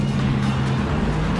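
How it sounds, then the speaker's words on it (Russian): A Mazda 3 MPS with a direct-injection turbocharged engine pulls hard in third gear past 3000 rpm, giving a steady, loud, close engine drone with no talk over it. "на 3-й передаче чувство двигателя возвращается вместе с этим пьянящим турбоподхватом после 3000"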